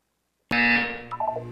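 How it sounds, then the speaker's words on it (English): A sharp electronic buzzer from the video game Portal 2 starts abruptly after silence, loud and sustained, then fades into a few short wavering tones. "When you hear the buzzer, look down."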